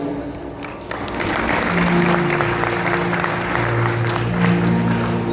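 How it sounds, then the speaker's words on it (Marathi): An audience at a Marathi shahiri folk performance breaks into applause that builds after a quiet start and stays steady and full for several seconds, with sustained musical tones in the background. "सगळ्यांच्या टाळ्या होऊ द्या"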